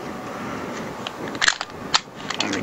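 The slide of a Glock 19 pistol is racked several times, with a few sharp metallic clacks over a constant background hiss, close by and without talking.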